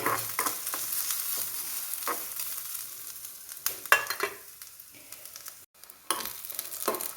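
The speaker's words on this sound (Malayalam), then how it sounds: "ഒരൽപ്പം തേങ്ങയും കൊണ്ടിടാം. ഇനി നമുക്കിതൊന്ന് ഇളക്കി മൂപ്പിക്കാം." Grated coconut is stirred and roasted in a frying pan for a Kerala erissery of yam, beans and papaya, giving steady scraping strokes over a soft dry sizzle, close and moderately loud, with a brief pause near the end.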